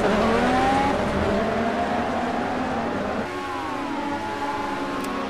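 Race car engine at sustained high revs during a final lap in the video game Project Cars, a steady loud drone with shifting pitch and a brief dip partway through, with no talk over it.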